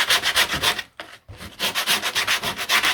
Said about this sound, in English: this is sanding and giving a dust like balsa dust